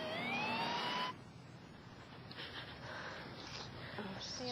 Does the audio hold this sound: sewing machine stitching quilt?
no